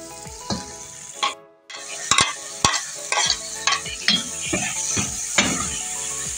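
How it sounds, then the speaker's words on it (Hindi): Masala with chopped green chillies and fresh coriander frying in a pan for aloo bharta, a steady sizzle broken by repeated sharp scrapes and clacks of a spoon stirring against the metal, close and fairly loud. "इसको थोड़ा सा फ्राई कर लेंगे ताकि मसाला हमारा भुन जाए।"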